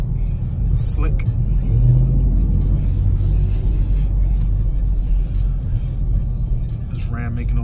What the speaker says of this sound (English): This Ram making all that noise.